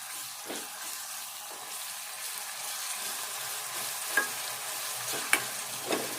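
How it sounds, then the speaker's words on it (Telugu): Chili powder frying in hot oil with browned onions for a chicken giblet tempering, a steady sizzle with a few sharp scrapes and clinks of a spoon stirring in the pan. "ఈ కారం వేసుకోవాలి. ఎందుకంటే ఈ కారం వేగాలి ఈ నూనెలో."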